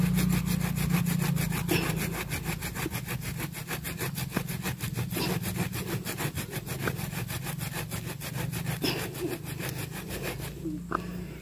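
A hand saw cuts through an air-layered bonsai branch in steady, rapid back-and-forth strokes, loud and close, over a low engine-like hum, with the rhythm breaking off near the end.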